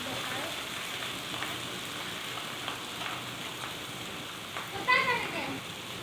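Noodles sizzle and are stirred and tossed with spices in a hot pan, a steady frying hiss with soft scraping strokes throughout, and a voice rises briefly near the end.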